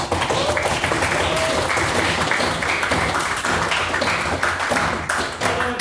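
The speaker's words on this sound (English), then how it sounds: "Please get another round of applause for his maiden speech." A debating society audience gives a round of applause for a maiden speech, a dense, sustained burst of clapping with some sharper individual claps, carried at an even level throughout.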